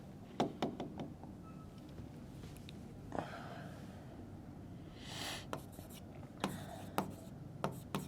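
Chalk or marker strokes on a board during a physics lecture on circular motion, a series of sharp taps and short scratchy strokes spread irregularly across the clip, close and fairly quiet.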